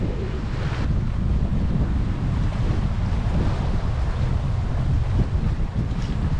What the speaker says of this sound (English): And then we finally have the wind we were waiting for.